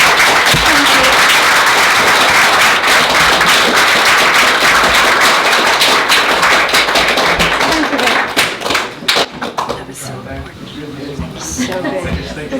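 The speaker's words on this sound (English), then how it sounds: "round of applause" An audience claps together in sustained applause that thins into scattered claps and thuds near the end, with a voice talking over it.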